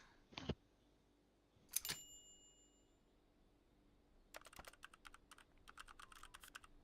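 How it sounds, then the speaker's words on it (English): Robot character typing on a computer keyboard in the life-simulation game Paralives: two sharp clicks, then a fast, irregular flurry of keystrokes, fairly quiet and close, with no talk. "Oh, you can hear Robot typing away."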